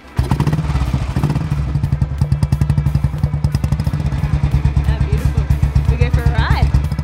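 An old motorcycle in Nepal starts up and settles into a steady, loud, close idle with a rapid thumping exhaust beat, while voices talk briefly over it.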